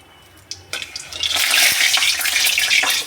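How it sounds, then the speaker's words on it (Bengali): Hot cooking oil in a pan spatters and sizzles loudly after a wet spatula touches it, a sudden bright crackling hiss that swells and holds close, with no talking. "খুন্তিতে জল ছিল বলে ছেটে উঠলো"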